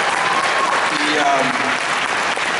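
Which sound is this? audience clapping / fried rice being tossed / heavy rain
audience clapping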